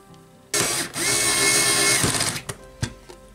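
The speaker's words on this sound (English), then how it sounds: "those are tight to screw up, so I've used my electric screwdriver" Electric screwdriver whirring loudly as it drives step screws into a Tamiya Subaru Brat ORV model chassis, a steady motor buzz of about a second and a half ending in a few sharp clicks.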